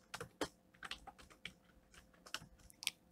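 Typing on a computer keyboard while working in Revit software, heard as quick, irregular clusters of light key clicks, close and quiet, with no talking.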